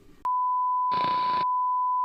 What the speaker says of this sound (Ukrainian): Розрядилась батарейка на телефоні.